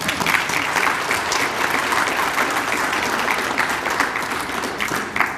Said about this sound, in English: You can clap. Go ahead and clap.